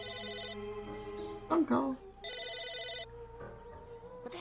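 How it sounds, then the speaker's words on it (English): A telephone rings in the video game Psychonauts, its bright repeating electronic trill sounding in bursts over game music and ambience, with a voice speaking briefly in the middle. "What the heck is that sound? That's a phone."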